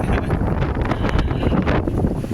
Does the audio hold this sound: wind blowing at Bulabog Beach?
yes